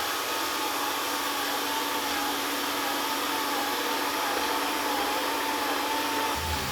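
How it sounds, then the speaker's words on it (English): A Dreame Aqua 10 Ultra robot vacuum sucks up crumbs on a floor with a steady, loud, close whirring hiss. The tone holds without pause throughout, with no talking. "let's see how well the robot vacuum tackles a stain like this"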